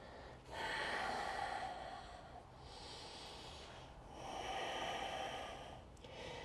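Breaths taken during a dynamic core yoga flow: three long, hissing inhales and exhales in slow succession, close and fairly clear, with no talking over them.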